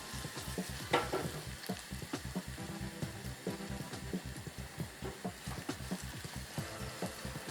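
Chilies frying in oil for dal, a steady close sizzle and bubbling with gentle stirring throughout and no talk.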